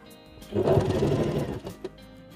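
An Usha Janome Allure DLX electric sewing machine runs a decorative stitch in a steady, close mechanical whir that builds for about a second before slowing to a stop.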